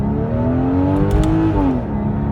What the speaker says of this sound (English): you can hear that incredible sound out of that flat six